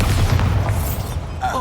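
A Bombarda blasting spell goes off in Hogwarts Legacy, a deep booming burst that rumbles on for over a second under game sound, with a brief chiming tone near the end.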